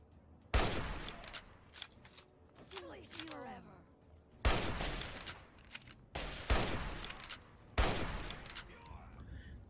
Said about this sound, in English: You're shooting me in my back.